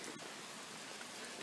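Steady outdoor rain falling just outside an open door, a soft continuous broadband hiss that stays even and fairly quiet throughout, with no voices over it.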